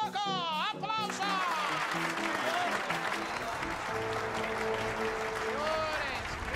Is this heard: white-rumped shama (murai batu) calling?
no